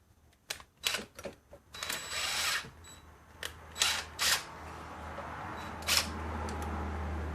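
Ratchet and torque wrench work on bolts of a BMW M52/M54 engine, irregular sharp clicks and short ratcheting bursts with pauses over a low steady hum, close and without talk.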